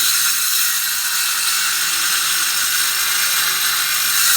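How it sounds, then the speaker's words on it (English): A saw whines loudly and continuously as it plunge-cuts through a porch board, holding a steady high-pitched drone with no pauses and no talking. "I'm going to start the plunge cut again."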